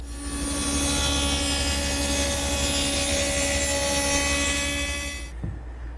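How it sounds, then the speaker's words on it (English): A router fitted with a slot cutting bit grooves wood in a steady, loud, high whine that holds for several seconds before cutting off abruptly, then a brief knock. "And I'm using a slot cutting bit."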